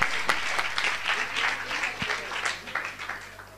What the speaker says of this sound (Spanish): para darle un aplauso, ya que viene.